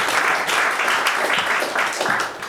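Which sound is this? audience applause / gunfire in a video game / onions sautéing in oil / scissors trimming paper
audience applause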